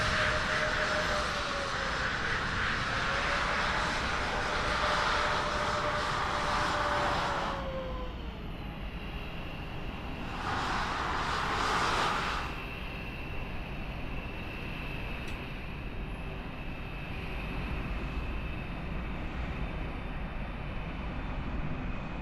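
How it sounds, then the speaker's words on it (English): A Ryanair airliner touches down on a runway in Microsoft Flight Simulator 2020 at Lisbon, a broad, steady engine roar with a high whine that eases off, then a second brief surge of noise before settling into a lower hum. "that is Ryanair boshing itself down on the runway"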